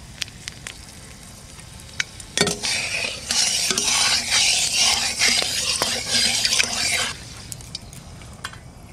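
Two dried red chillies, black peppercorns, cloves, cinnamon and cardamom hit hot mustard oil in a kadai, with a few scattered clinks before a loud, close crackling sizzle that lasts several seconds and then fades back to quiet ticks.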